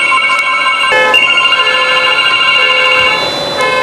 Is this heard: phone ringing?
yes